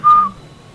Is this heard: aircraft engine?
no